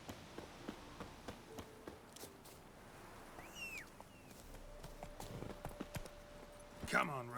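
Hoofbeats of the horse Roach galloping in The Witcher 3 video game, a rapid clip-clop rhythm running through the clip over game ambience, with a voice talking over it.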